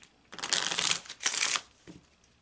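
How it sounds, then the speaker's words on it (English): A deck of Kipper cards is shuffled in two quick riffling bursts up close, followed by a soft tap, with no talk. "then you want to shuffle the rest of the deck"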